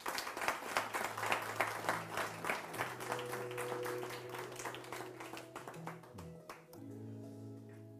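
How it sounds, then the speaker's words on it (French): An audience applauds to welcome guests at a regional Oriops Nouvelle-Aquitaine event, with steady, dense clapping that fades gradually while a sustained musical tone plays underneath. "Merci de les accueillir sous vos applaudissements bien sûr"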